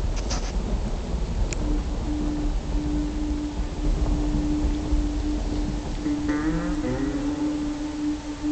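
Rain pours in the rainy cleft in the video game Uru: Complete Chronicles, a dense broadband rush with low rumbling, joined by a steady hum and a brief warbling tone near the end.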